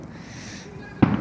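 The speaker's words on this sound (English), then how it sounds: "Those are nice fireworks too." A single firework bursts with a sharp, loud crack near the end, preceded by a low steady rumble of distant street noise.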